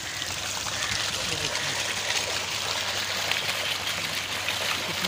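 Clean, cold water flows steadily from a college water tank, a continuous broad rushing and trickling wash with no breaks, fairly close and loud.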